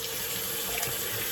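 Tap water runs steadily from a faucet in a continuous broadband hiss while water is added to a lime shaving soap, close and even throughout with no talking.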